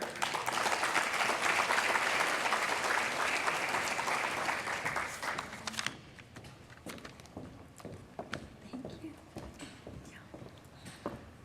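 An audience at a school awards ceremony claps loudly to welcome the superintendent of schools, a dense burst of applause that holds for about six seconds before thinning into scattered claps and quieter room noise.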